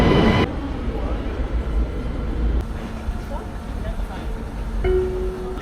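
A Vienna U4 metro train rumbles steadily in a station or carriage, with a low, continuous rolling drone, brief mechanical clunks and a faint tone near the end, all under ambient noise.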